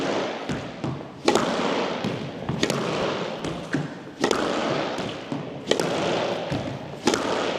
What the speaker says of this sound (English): core muscle hitting is a short swing and it's a punch swing